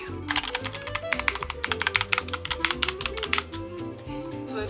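Rapid typing on a computer keyboard, with dense, irregular key clicks clattering close and clear in a steady burst, then thinning out near the end.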